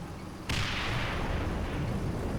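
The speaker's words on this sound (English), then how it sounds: "The other interesting point is that artillery's starting to come down now." Artillery fire in the game Combat Mission: Battle for Normandy, one sudden heavy boom out of a low background rumble, then a long rolling roar that stays loud and fairly distant, with no voices.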